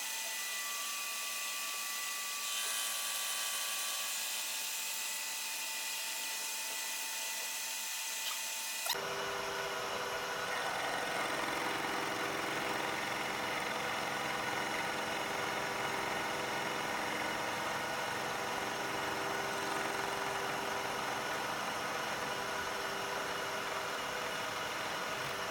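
A machine steadily cuts teeth into a 15-tooth gear, a continuous whirring, grinding drone that shifts in tone partway through and then holds steady and fairly loud until the end.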